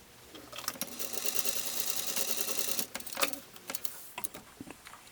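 A sewing machine stitching across the tops of two chiffon skirt pieces runs in a fast rattling burst for about two seconds, then gives a few short clicking starts and stops, close and alone.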